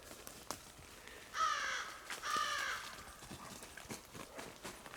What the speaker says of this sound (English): I guess it was a raven